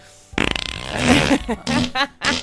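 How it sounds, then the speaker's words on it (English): Electronic fart pad noises from a novelty toy, a loud rapid burst of rubbery buzzing followed by several shorter fart sounds in quick succession, with voices mixed in. "Stop the fart noises."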